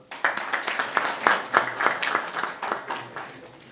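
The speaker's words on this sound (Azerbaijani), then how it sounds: "Fəxri üzvlərimizi alqışlayaq." Audience applauding honorary members at an academy founding ceremony in Baku, a steady patter of many hands clapping through the whole stretch, with small swells and no voices over it.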